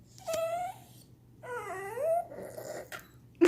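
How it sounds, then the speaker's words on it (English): Several dogs cry and whimper indoors in rising and falling high whines, a few separate bursts close by with brief quiet gaps, ending in a sharper yelp. "These are my crying dogs right now."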